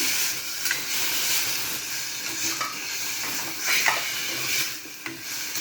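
Crushed tomato is added to onions lightly browned in oil over a medium gas flame for karela shaak, raising a loud, steady hissing sizzle with intermittent stirring scrapes close by.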